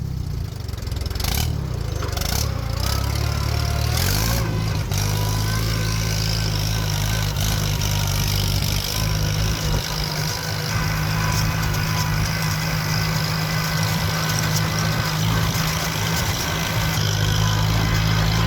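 Engine of an old, cheaply bought tractor runs loud and close, first clattering at low speed, then revving up and holding a higher, steady drone with mechanical rattle throughout.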